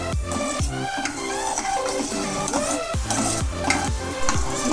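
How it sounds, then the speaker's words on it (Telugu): Spoon stirring milk into jaggery and chickpea payasam in a pot, with repeated scraping strokes and soft bubbling, close and continuous, with a few metallic taps. "కాచి చల్లార్చి పెట్టుకున్న పాలు కొంచెం వేసుకొని ఒకసారి కలుపుకుందామండి"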